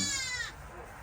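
A little goat, apparently separated from its mother, gives a single short bleat close by. The wavering cry fades out after half a second.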